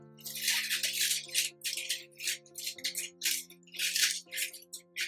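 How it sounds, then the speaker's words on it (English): Scissors snip through baking paper while lining a cake tin, a close run of quick, crisp rustling cuts over a faint sustained tonal hum. "Just excuse that cutting noise, it's a bit annoying, isn't it?"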